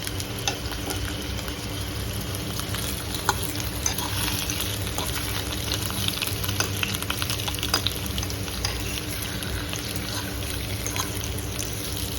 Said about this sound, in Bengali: আলুগুলো সুন্দর মতন ভেজে নেব।